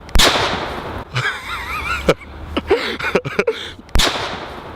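A small explosive charge detonating under a £5 note, a sharp close bang at the start followed by people talking and laughing, then another sharp crack near the end.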